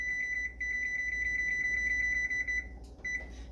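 A kitchen timer beeps in a fast, steady run of high electronic tones for about two and a half seconds, pauses briefly, then gives one more short beep, close and clear over a low background hum.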